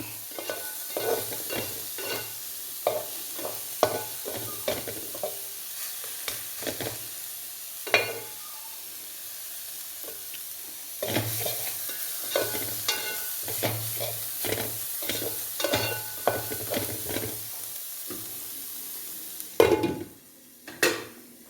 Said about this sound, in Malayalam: അത്രയും എണ്ണ പച്ച വെളിച്ചെണ്ണ ഒഴിച്ചു, ഒന്ന് ഇളക്കി.